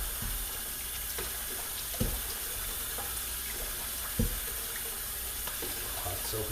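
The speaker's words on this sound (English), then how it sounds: "Hot soapy water." Hot water runs steadily from a kitchen tap into a sink, a continuous close splashing hiss with a couple of soft knocks, no voices.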